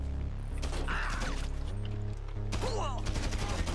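Rapid gunfire rattles in GTA Online during a Cayo Perico heist, several sharp bursts mixed with mechanical clanks and game sounds, close and loud throughout the short stretch.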